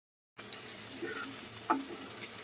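Onion, chili and cumin sizzle and fry in a hot pan, a steady close hiss with a few brief clinks and stirring scrapes, no voices.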